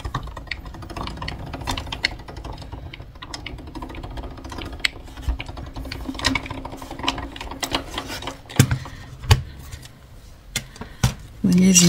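A scrapbooking cutting machine feeding paper partway through, giving a run of small mechanical clicks and ratcheting ticks with a few louder knocks near the end, heard close under occasional speech.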